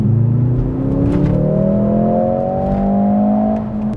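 A Mercedes-AMG GLC63 S E-Performance hybrid accelerating hard, a loud continuous engine note climbing steadily through the revs with a whirring layer, heard from inside the car without talking.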